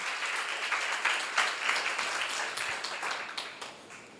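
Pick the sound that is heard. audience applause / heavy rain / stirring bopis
audience applause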